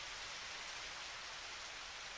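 Steady rain hisses evenly at low volume in the video game Back to Nature, a soft continuous patter with no voices or other sounds.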